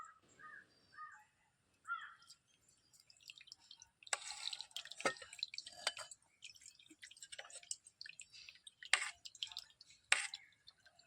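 Faint liquid trickles and drips as ragi batter is strained into a vessel in uneven bursts, while crows caw a few times in the background.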